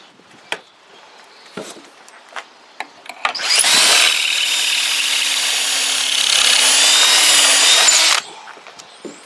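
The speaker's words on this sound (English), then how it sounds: "so you can see me actually drilling a hole" A few light knocks and taps, then a power drill whirs loudly and steadily, drilling a pocket hole in wood for about four seconds before stopping abruptly.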